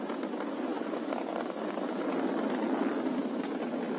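SpaceX Falcon 9 rocket engines roar during supersonic ascent past Mach 1, a steady broad, distant-sounding rumble with a hissy, wind-like texture throughout, no voices.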